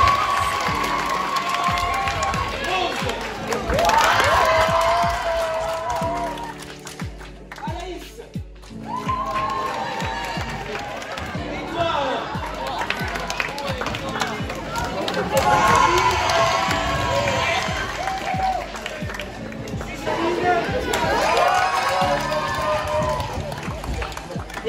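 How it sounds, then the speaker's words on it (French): A school eloquence contest audience of young students cheers, whoops and claps for the candidates, loud and sustained throughout, with an announcer's voice heard over the crowd at times. "On applaudisse plus particulièrement Clarisse."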